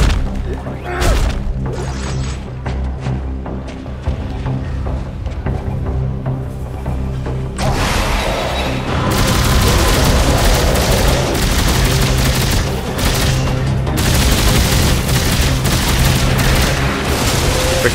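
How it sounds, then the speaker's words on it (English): Repeated explosions and crashing impacts from grenades going off during Dead Space 3 gameplay, loud and dense with booming bursts and rattling gunfire-like blasts that intensify in the second half, with no talk over them. "Freaking grenades going off everywhere."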